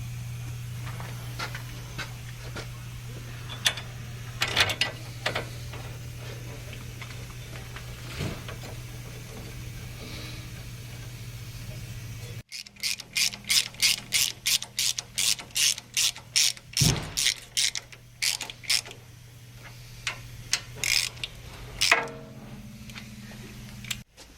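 A ratchet running bolts on a 1997 Land Rover Defender 90 axle swivel joint, a steady low hum giving way to loud, rapid ratchet clicking in quick rhythmic bursts, close and without talk.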